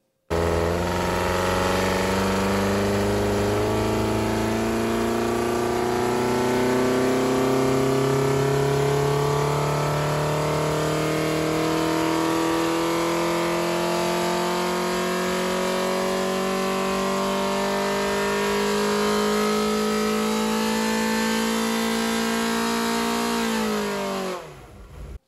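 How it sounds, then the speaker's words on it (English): A 2.1-litre Ford Pinto engine with a Burton modified Bosch distributor and RL31 cam, rated at 175 brake horsepower, revs steadily on a dyno with a continuous rising drone. It cuts off at the very end. "dyno run on a Burton modified Bosch distributor, 175 brake horsepower Pinto"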